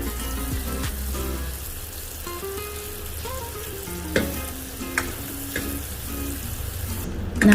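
Thick sugar syrup boils in a pan for strawberry tanghulu, giving a steady, close bubbling sizzle with a few sharper pops, alongside faint tonal background sounds.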